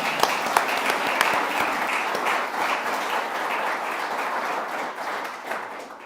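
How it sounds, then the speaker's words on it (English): Audience applause at a state treasurer swearing-in ceremony with the governor, a steady dense wash of clapping that holds for the whole stretch, fairly close and even in level. "Now we can clap a lot for that"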